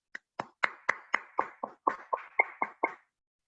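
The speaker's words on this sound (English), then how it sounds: "with a big round of applause." At a Toastmasters club showcase, about a dozen separate hand claps ring out at a steady, unhurried pace, fairly quiet and sparse, like only one or a few people clapping, with no talking.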